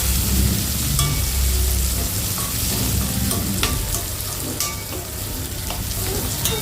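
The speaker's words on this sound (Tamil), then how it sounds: "இப்போ இந்த கத்திரிக்காவையும் நல்லா வதக்கி விட்டுக்கோங்க" Brinjal pieces sautéing with onion and garlic in a pan for kara kulambu give a steady, close sizzle and crackle, with occasional stirring scrapes throughout and no talk.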